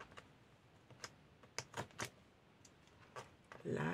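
Paper being cut for a scrapbook class photo album: a run of crisp, irregular ticking snips and clicks, close and fairly quiet, ending in a brief louder rustle, with no talk.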